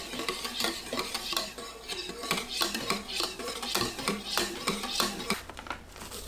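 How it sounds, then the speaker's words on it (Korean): Eggs whisked together with milk in a bowl for a frying-pan apple cake, rapid rhythmic clinks and scrapes of the whisk against the bowl, close and steady throughout. "계란에 우유 넣고 섞습니다"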